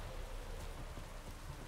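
Steady rain falls in The Witcher 3, a dense, even hiss of drops hitting surfaces, moderately loud and continuous across a short stretch with no voices.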